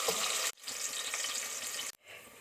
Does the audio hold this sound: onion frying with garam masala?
yes